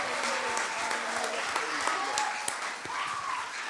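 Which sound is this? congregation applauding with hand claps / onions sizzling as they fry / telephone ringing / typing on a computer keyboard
congregation applauding with hand claps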